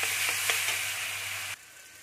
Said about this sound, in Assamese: অলপ বিলাহীখিনি মই এতিয়া সিজিবৰ কাৰণে দিম।